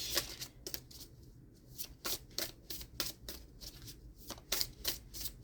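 A deck of cards being shuffled close up, in repeated quick riffling bursts with short crisp pauses between them, fairly quiet and without talk.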